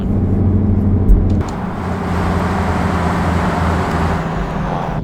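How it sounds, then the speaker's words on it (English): Truck engine in American Truck Simulator, a continuous loud rumbling drone with road noise, a brief bump early on before the tone settles into a steady hum. "Mine doesn't sound like crap."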